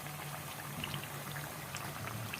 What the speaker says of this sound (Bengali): লাল লাল হয়ে আসছে, আর একটু ভাজা হোক, তারপরে আমরা এগুলো তেল থেকে উঠিয়ে নিয়ে